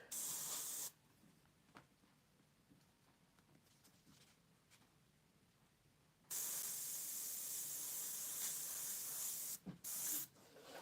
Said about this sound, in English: Let's spray it up in here a little more.